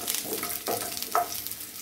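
Small onions, about a cup, sautéing in oil for a coconut-free onion chutney, giving a soft continuous sizzle with a couple of brief stirring scrapes, fairly quiet and close, with no talking.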